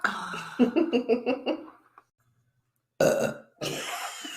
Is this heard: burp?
yes